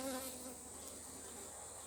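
Honey bees buzz at a beehive frame they are filling with honey, a dense steady hum close by and fairly quiet, with no voices.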